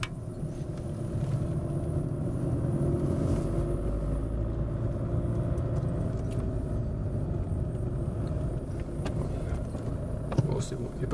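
A 2006 Mercedes C200 W203 sedan, just fitted with new rear brake pads, drives a test lap; a steady low road and engine rumble is heard from inside the car, with faint ticks and rattles throughout.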